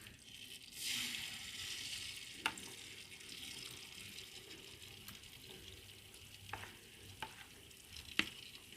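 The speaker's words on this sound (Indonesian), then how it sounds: "Kita goreng tapenya sampai berwarna kuning keemasan ya." Flour-coated cassava tape fries in hot oil, a quiet continuous sizzle with occasional sharp pops and clinks of a utensil stirring, no talk.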